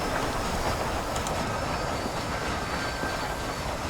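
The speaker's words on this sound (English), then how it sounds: "This train headed for Mexico?" A train running in the Red Dead Redemption: Undead Nightmare video game produces a steady, continuous rumble of wheels on rails with faint metallic ringing, unbroken and fairly loud throughout, with no speech.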